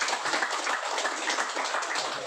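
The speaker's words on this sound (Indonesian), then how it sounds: "Tepuk tangan buat kita semua." Applause at an association meeting, a brief, steady wash of many hands clapping at moderate volume.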